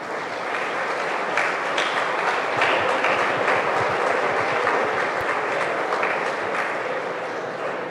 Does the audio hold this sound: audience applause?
yes